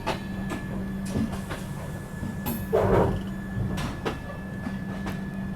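A train departs Jammu Tawi railway station at sunset, with a steady low rumble and a rhythmic clickety-clack of wheels over rail joints close by, plus a brief louder metallic burst midway.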